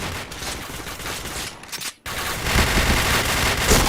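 Rapid bursts of automatic gunfire from a shooting video game, dense and loud, cutting out for a moment before resuming as a heavy continuous barrage.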